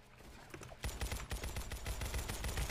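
Shotgun fire in the video game Weaponry comes as a rapid series of loud blasts after a brief quieter start, densely repeated in quick succession.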